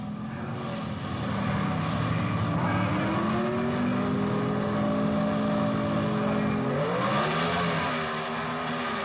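A 1970s Pro Stock drag race between a Ford Mustang and a Chevrolet Monza, with loud engine roar rising and shifting in pitch as the cars accelerate down the strip.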